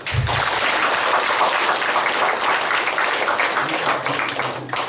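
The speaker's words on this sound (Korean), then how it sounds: "박수 한번 할까요?" A church congregation claps together in a loud, steady burst of applause that fills the room, fading slightly toward the end.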